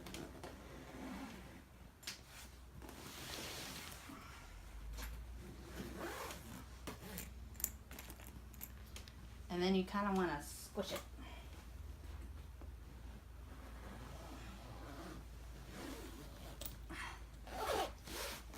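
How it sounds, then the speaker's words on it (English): A carry-on suitcase being zipped shut, with several short raspy zipper pulls, the loudest in the middle, close up and fairly quiet, between stretches of a person talking. "So what you want to do first is sit here and actually zip it."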